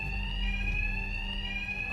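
A loud, continuous fire alarm rings in Batman: Arkham Knight, a steady high-pitched electronic tone held unbroken over a low background hum.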